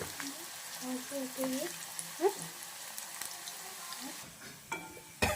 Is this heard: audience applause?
no